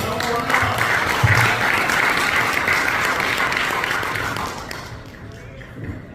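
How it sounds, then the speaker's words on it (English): Applause from guests at a Pancyprian association dinner dance in Florida, a moderately loud stretch of clapping with some talk mixed in, fading gradually toward the close. "Give him a round of applause."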